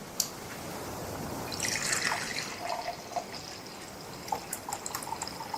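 Hot water poured into a large mug, a faint, quiet trickle that rises in pitch as it fills, then thins into a few scattered drips.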